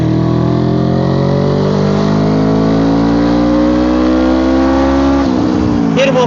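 A Suzuki Inazuma 250 motorcycle engine revs up loud and close while accelerating in second gear, its pitch climbing steadily for about five seconds before the throttle drops off sharply, with a voice briefly audible over the engine.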